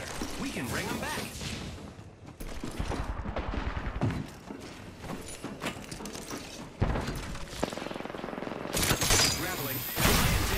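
Gunfire in the video game Apex Legends, repeated bursts of shots with crashes and mechanical clatter throughout a chaotic firefight, with voices talking over the action.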